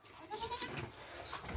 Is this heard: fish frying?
no